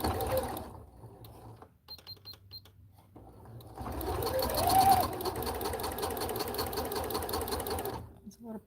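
A sewing machine stitches in short bursts, then runs in a long steady whirring stretch while sewing a back stitch on a homemade Belle princess costume, loud and close with people talking over it.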